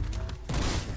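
A short burst of loud, close gunfire in a John Wick style indie shooter game, with a sharp onset of rapid shots.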